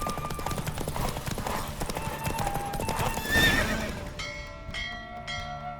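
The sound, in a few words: horse galloping in a race, from video game The Witcher 3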